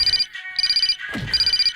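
A phone ringtone rings loudly and close in repeated bursts of bright, warbling electronic tones with short gaps between them. A brief crash-like noise comes in the middle, and there is no talking.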